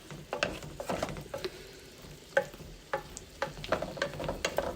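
Squash cooks in a pan with celery and bell peppers, giving a quiet, steady sizzle broken by irregular light clicks and scrapes.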